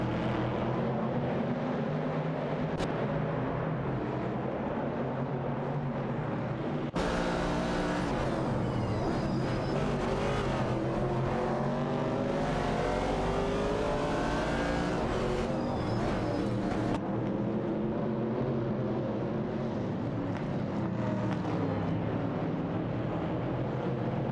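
Chevrolet Camaro 70 and Ford Falcon race cars, fighting over 24th place in an AI-driven race, give off a continuous engine whine that rises and falls in pitch, fairly quiet and with no talk over it.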